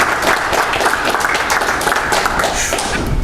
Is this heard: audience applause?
yes